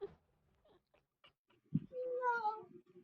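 A single cat meow rises and falls once, close and clear, after a few quiet taps and brief faint sounds.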